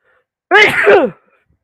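A single short, loud sneeze up close, bursting out of silence and cutting off quickly.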